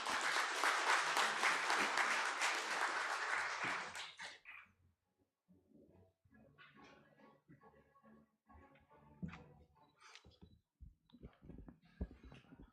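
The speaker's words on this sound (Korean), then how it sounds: "처장님을 큰 박수로 모시겠습니다." Loud audience applause fills a hall at the opening of the 2023 international forum on local autonomy legislation, greeting the head of the Ministry of Government Legislation. It lasts about four seconds, then fades to quiet room noise and faint shuffling.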